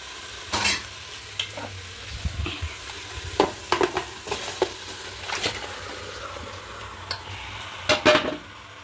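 Chicken hits a pan of cooked-down ginger, garlic and onion paste for a pepper chicken dish, giving a soft frying hiss broken by intermittent stirring clanks and scrapes, close and moderately loud, with no talking.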